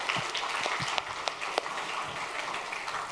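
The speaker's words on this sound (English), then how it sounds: "Can we give God a round of applause?" Church congregation applauding after a call to celebrate a couple's 53 years of marriage, a soft, even patter of many hands with a few sharper claps standing out.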